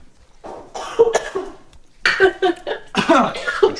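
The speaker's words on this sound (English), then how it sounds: "She's just coughing from the smell, right?" A person coughs repeatedly in harsh bursts, reacting to the smell of sweet candy, loud and close with brief throat-clearing sounds between coughs.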